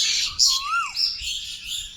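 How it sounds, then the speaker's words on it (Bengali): Two birds calling from a tree outdoors in the morning, trading a sharp squawk and a swooping whistled note, then a quick high chirp, all loud and close with a hiss of other birdsong behind. "এরাই এতক্ষণ ধরে ডাকছে।"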